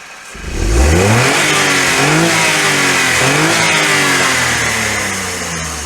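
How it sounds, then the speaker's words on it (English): A smoky Daihatsu car engine revs up sharply, then holds a loud, steady running note with rising and falling revs before easing off slightly toward the end; no talking. "The engine's been running for quite a long time"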